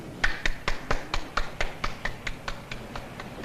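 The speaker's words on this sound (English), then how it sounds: "one guy was clapping at the end" A single person claps alone at the end of a speech, about a dozen evenly spaced sharp claps that slow and soften slightly, with no crowd joining in.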